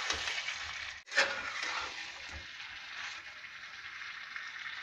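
Chicken curry with potatoes fries in a pan over a medium flame, giving a soft, steady sizzle with a brief clink or stir near the one-second mark.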